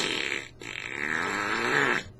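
A voice imitates a fart with two drawn-out, buzzing raspberry blasts, a short one followed by a longer rising one, close and loud.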